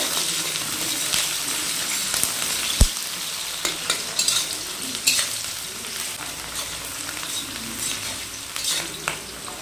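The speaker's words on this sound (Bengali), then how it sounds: "পেঁয়াজটা একটু ভেজে নেব।" Onions fry in a pan for a traditional North Bengal sidol dish, a constant near sizzle broken by stirring scrapes and one sharp metallic knock, with no voices.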